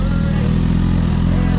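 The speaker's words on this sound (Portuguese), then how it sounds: "Tá vindo mais moto aí." Motorcycles rumble in at a gathering of lowered cars and big-displacement bikes, a close, steady pulsing engine drone with a clattery edge, heard briefly on its own.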